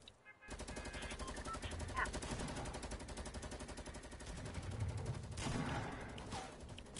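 Fortnite submachine gun firing medium ammo, a sustained rapid rattle of shots running nearly the whole time, rising again toward the end, with some voice activity mixed in.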